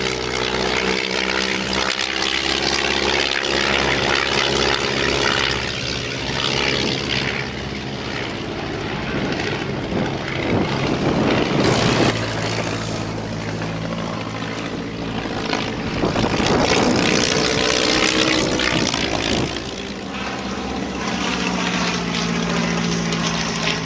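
A de Havilland Tiger Moth biplane trainer at the Shuttleworth Military Pageant, its propeller engine droning steadily and loud throughout as it flies past, with the pitch swelling and shifting as the aircraft passes.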